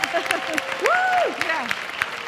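A hall of fame audience applauds an inductee, a coach, with clapping running under a cheering voice that rises in a long whoop, hands patting irregularly throughout the short burst.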